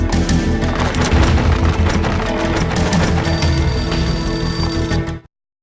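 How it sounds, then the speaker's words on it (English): An old, battered telephone rings loudly in the entrance hall of a building in the Max Payne video game, its bell steady and continuous for about five seconds before cutting off abruptly. "A beaten-up phone in the entrance hall was ringing."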